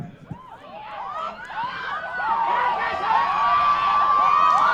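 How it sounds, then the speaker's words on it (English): Women's soccer teammates cheer and shout from the sideline after a goal in a Wheaton College match against Elmhurst University; high excited voices start scattered and build into louder, sustained whoops and yells. "Lauren Ketchum trying not to smile as her teammates cheer for her"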